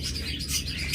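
Pet birds kept for sale chirp and twitter continuously and fairly close, a dense overlapping chorus of small high calls with no voices.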